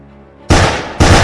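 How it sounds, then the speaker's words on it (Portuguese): Two sharp, loud gunshots ring out in a horror story, each a sudden close blast about half a second apart, following a quiet low background. "Então, houve-se tiros."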